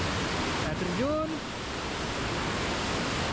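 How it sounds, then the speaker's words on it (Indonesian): Waterfall in a gorge in Canton Valais, Switzerland: steady broadband rushing roar of falling water, loud and continuous throughout, with a brief voice-like tone rising over it near the start. "Air terjun"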